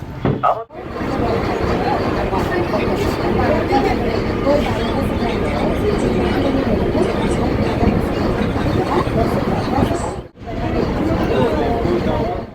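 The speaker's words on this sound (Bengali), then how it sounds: "পাশ দিয়েই চক্র রেলের রাস্তা, ট্রেন আসছে" A circular railway train rumbles past close by in a long, steady roar with a clattering texture, and crowd chatter runs beneath it before a brief break near the end.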